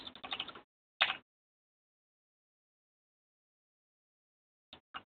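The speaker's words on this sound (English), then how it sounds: "Just stick the keyboard key a couple times." Brief bursts of computer keyboard typing: a short flurry of keystrokes, a single quick tap a moment later, then long silence before two faint clicks at the end, with no talking.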